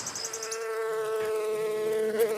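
Honey bees buzzing around a bee yard with about thirty hives, a dense droning hum that holds steady and fairly loud nearby, tones wavering slightly as insects move, with no talk.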